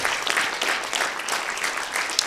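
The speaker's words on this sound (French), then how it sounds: "Grande main d'applaudissement à" Steady, full applause from an audience in a hall after a talk on artificial intelligence, sustained clapping without a break across the whole span.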